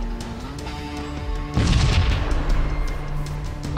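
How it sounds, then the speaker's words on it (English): A missile explosion in the Sunrider video game: one loud, deep boom bursts in abruptly over a steady humming, droning background and trails off into a lingering rumble. "More missiles."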